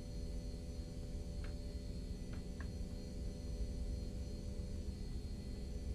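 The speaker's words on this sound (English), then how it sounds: "That's going to accelerate the engines to maintain the EPR setting." McDonnell Douglas MD-80 jet engines under autothrottle in X-Plane hold a steady, even roar with a faint whine, smooth and continuous throughout with no talking.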